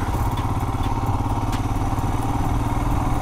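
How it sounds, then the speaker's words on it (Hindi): A motorbike ridden slowly on a road from Candolim to Anjuna Beach in Goa gives a steady, close engine putter with rhythmic low thumping throughout. "मैं धीरे धीरे बाइक चला रहा हूँ"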